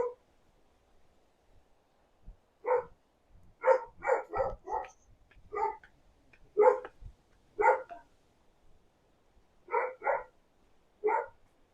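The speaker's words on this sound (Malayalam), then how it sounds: "പേടിക്കണ്ട, നായുണ്ട്, അത്രേ ഉള്ളൂ." A dog barks repeatedly near a house in a quiet setting, about a dozen clear barks in irregular clusters, some doubled, moderately close with near silence between.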